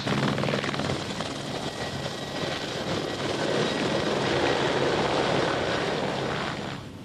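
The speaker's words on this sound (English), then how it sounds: "Okay, the helicopter's on the way." A helicopter's steady rotor and engine roar drones continuously and loudly throughout, fading slightly at the end, during the Isle of Man TT motorcycle races.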